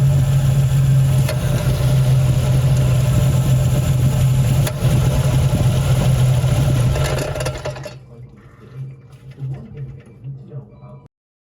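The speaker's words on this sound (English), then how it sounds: "You can turn on the car and listen to the transmission as you do this." A Toyota JZX90 Mark II engine idling after an automatic-to-manual transmission swap: a steady, even idle hum with a faint mechanical whir, close by, which fades out near the end.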